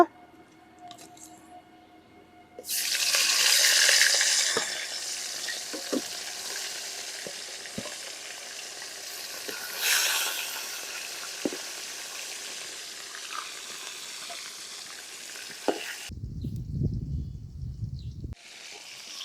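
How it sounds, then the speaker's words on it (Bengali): Rui and tilapia fish fry in a pan, with loud bursts of sizzling and crackling in oil, scattered stirring clicks, and a steady frying hiss that fades to a lower rumble near the end. "বাকি মাছগুলো বাজা নিব"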